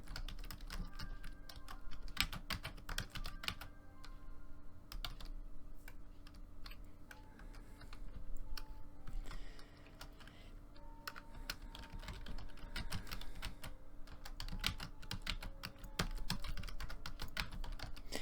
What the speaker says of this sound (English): I'm just typing in something really quick so that we can get through this piece.